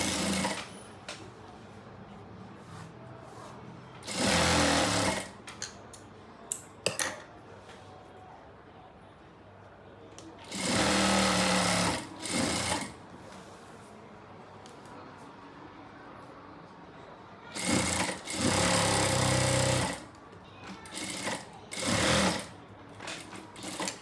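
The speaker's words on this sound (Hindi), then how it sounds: "इस पर सिलाई लगाएंगे इस तरीके से हम इसे" A sewing machine stitching a Farsi salwar runs in three separate loud bursts of fast, even whirring, each a few seconds long, with quieter handling sounds of fabric and scattered clicks in the pauses between them.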